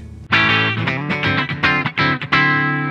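A heavily distorted electric guitar, with a PRS Mary Cries optical compressor pedal placed after the distortion, strums a series of compressed chords, loud and sustained with short choppy breaks between hits.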